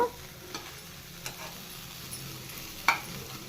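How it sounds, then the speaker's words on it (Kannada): Sprouted field beans fry in oil for a sprouts gravy, a faint, even sizzle with a few soft clicks of stirring scattered through it. "ಈಗ ಇದನ್ನು ಸ್ವಲ್ಪ ಹೊತ್ತು ಎಣ್ಣೆಯಲ್ಲೇ ಫ್ರೈ ಮಾಡ್ಕೋಬೇಕು"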